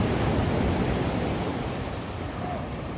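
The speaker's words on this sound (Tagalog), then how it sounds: "Oh, malalaki ng alon. Grabe." Big sea waves surge and crash at a fishing shore, a loud continuous roar of surf mixed with wind rumble filling the whole stretch, no voices clearly standing out.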